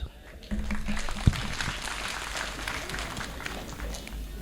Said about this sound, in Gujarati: એમના કામને ફરીવાર તાળીઓથી વધાવીએ